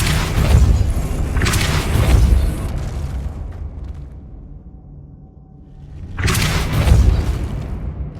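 Depulso force spells blasting in the Hogwarts Legacy video game, two heavy booming bursts early on, a quieter lull, then another loud blast near the end, with no talk.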